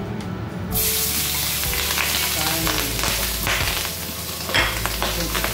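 Pork belly sizzles and crackles steadily in hot oil, a dense continuous frying hiss with occasional louder pops, close up and without talk.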